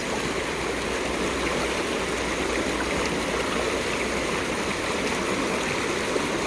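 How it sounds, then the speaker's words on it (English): Steady rushing water flows without pause, a broad even wash of sound with no voices or other noises. "Do you hear the water from far off?"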